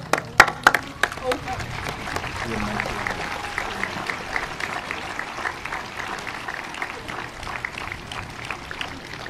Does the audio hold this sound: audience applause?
yes